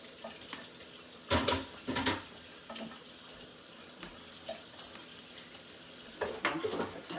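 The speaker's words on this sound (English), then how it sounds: "let's rinse our potatoes" Potatoes rinsed under running tap water at a kitchen sink, heard as bursts of splashing water flow that start and stop, close and fairly loud, with quieter handling between the bursts.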